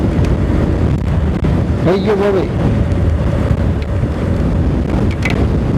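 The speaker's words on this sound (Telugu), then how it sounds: "గాలి చాలా హెవీగా వస్తుంది." Strong wind roars across the microphone in a constant heavy rush near a cave temple in Andhra Pradesh, with a man briefly exclaiming partway through.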